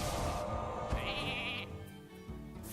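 A sheep bleat from the Polymorph spell in the Hearthstone video game, a single loud, wavering baa lasting about a second over game sound effects.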